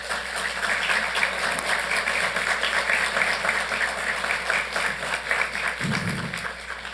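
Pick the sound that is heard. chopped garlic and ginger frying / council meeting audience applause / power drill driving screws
council meeting audience applause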